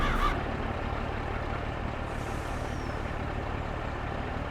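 A farm truck's engine idles steadily nearby, a low constant drone while a tractor unloads grain into it, with a brief hiss at the start and faint outdoor background.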